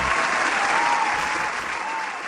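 A studio audience gives a brief, steady round of applause for an arriving guest, even and fairly soft from start to finish.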